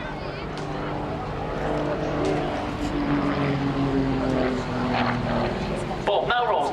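RAF Grob Tutor propeller aircraft performing display manoeuvres at the Southport Air Show, its engine droning steadily with shifting pitch under continuous commentary.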